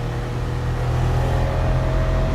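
A Suzuki Carry 660 at full throttle, its small engine droning loud and close in a steady, strained hum with no talking.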